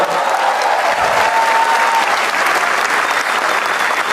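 A stand-up comedy show audience claps in dense, sustained applause for several seconds, with no talking over it.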